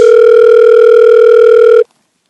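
A steady telephone dial tone holds loud and alone for almost two seconds, then cuts off abruptly.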